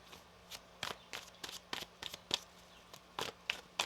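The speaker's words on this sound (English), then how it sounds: "One more shuffle." Tarot cards shuffled by hand during a reading, a quiet close series of about a dozen crisp riffling bursts in an uneven rhythm against a faint low hum.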